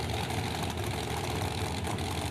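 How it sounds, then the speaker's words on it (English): A drag racing car with a 526 Hemi engine and a 1471 blower idles loudly and roughly, a dense continuous rumble that stays steady throughout. "It's got a 526 Hemi engine, a 1471 blower"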